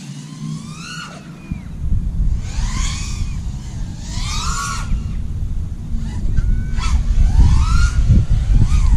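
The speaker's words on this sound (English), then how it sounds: "I love the sound of this quad." Whining FPV quadcopter motors rise and fall in pitch through repeated swooping sweeps over a steady low rumble, loud and close.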